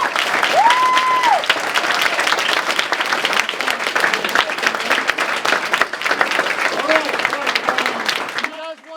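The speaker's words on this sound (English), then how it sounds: "can you all give them an amazingly big round of applause?" Big round of applause from a conference audience at a closing keynote, dense sustained clapping filling the room for about nine seconds, with a brief whistle-like tone early on and a voice cutting in at the very end.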